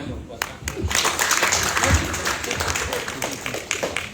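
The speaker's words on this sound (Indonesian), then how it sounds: "Tepuk tangan dong buat Kak" Church congregation clapping during a sermon, a busy, moderately loud patter of many hands mixed with voices and a few louder nearby claps.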